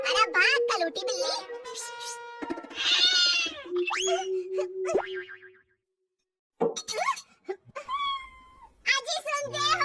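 A black cat gives whining meows in an animated Hindi folk tale. The meows are mixed with springy cartoon boings and overlapping character voices, with a brief silent gap midway.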